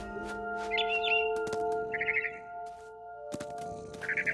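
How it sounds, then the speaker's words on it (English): Barn swallow in What Remains of Edith Finch, heard as short trilled chirps in quick bursts against a sustained tonal music bed, with sharp clicks and cracks scattered between the calls. "Then I heard chirping outside my window. It was a barn swallow going back to her nest."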